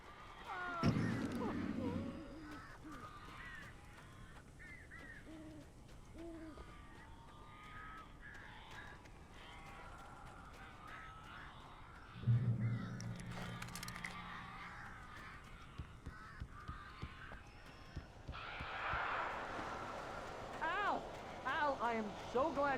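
Crows caw in the video game Alan Wake, harsh calls scattered across an eerie game soundscape with occasional thumps, a louder burst of cawing near the end.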